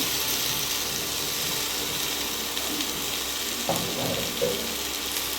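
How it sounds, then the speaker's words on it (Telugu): Ivy gourd (tindora) frying in hot oil, a loud, close, continuous sizzle with a few brief scraping stirs near the end and no talking. "ఆ దొండకాయలు కూడా ఫ్రై చేస్తాము"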